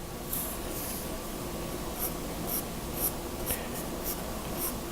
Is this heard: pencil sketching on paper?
yes